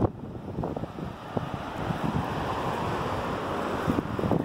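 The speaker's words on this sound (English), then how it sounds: "So it's kind of windy." Strong blizzard wind in Colorado gusting and roaring against the microphone, a loud continuous rumble with sharper buffeting bursts, no voices.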